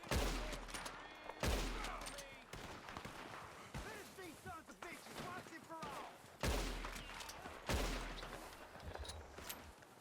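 Gunfire in the open-world game Red Dead Redemption 2, several sharp booming shots spaced a few seconds apart over a continuous bed of game sound and ambience, with a voice talking throughout.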